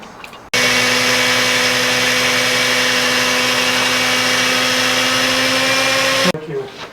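A loud, close power drill whirs steadily for about six seconds, starting and stopping abruptly, with a brief murmur of voices after it stops.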